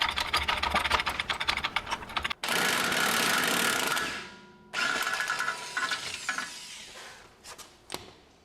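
A ratchet or air tool works loose the subframe mounting bolts and strut nuts on a BMW E30 during engine removal. It gives rapid clattering bursts, then a sustained whirring run, then more clicking and rattling.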